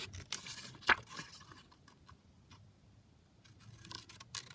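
Scissors snip around a scrapbook pocket in a few short, close, crisp cuts with quiet pauses between them, no talking.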